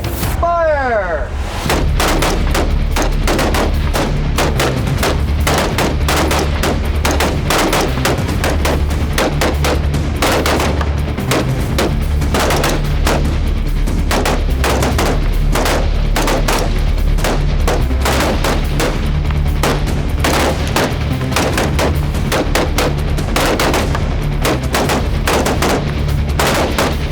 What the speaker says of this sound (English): I got to shoot a really nice rifle that is, way nicer than anything I have, with a great optic.